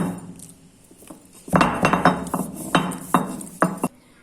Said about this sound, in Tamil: இப்போ இதை நல்லா நசுக்கி பவுடர் பண்ணிக்கலாம்.